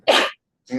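A single sharp sneeze bursts out close by, then a brief pause before a voice starts up.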